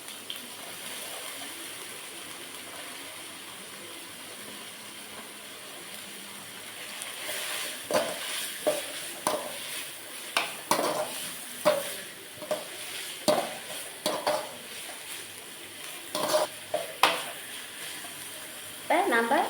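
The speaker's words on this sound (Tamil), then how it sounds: "இப்போ நான் 3/4 பாகம் நம்ம வேவிச்சு வச்சு இருக்க வெஜிடபிளை நம்ம இதில் நான்" Parboiled vegetables are stirred in a pan for chicken fried rice, a soft sizzle beneath repeated scraping strokes of the spatula that grow louder and more frequent in the second half.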